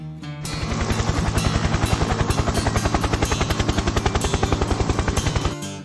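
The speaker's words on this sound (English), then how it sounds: "Helicopter." Loud helicopter rotor chopping in a fast, steady rhythm, close and dominant, rising in quickly and holding throughout.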